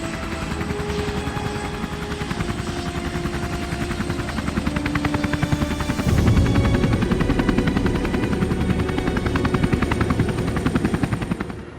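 A military helicopter flies over Helmand, Afghanistan, its rotor chop a steady dense pulsing that swells louder around the midpoint and holds strong to the end, with no speech.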